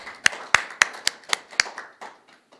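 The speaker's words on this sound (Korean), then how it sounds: "한상태 교수님을 큰 박수로 환영해 주시기 바랍니다" A few people at a science and technology forum clap to welcome a university professor to the podium, about seven distinct, fairly close hand claps in an uneven rhythm that thin out and fade within a couple of seconds.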